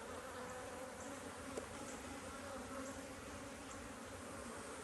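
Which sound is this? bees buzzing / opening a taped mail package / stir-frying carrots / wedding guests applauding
bees buzzing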